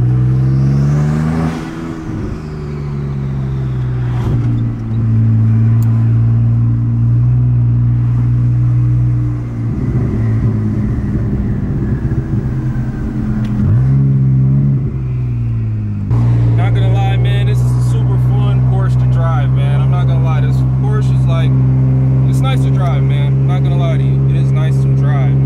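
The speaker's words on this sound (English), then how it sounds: "1200 horsepower Porsche, man. Insane power." A 1200-horsepower Porsche 911 Turbo S engine droning loudly and steadily close by, with pitch rising and falling as it accelerates and surges again; someone talks excitedly over it.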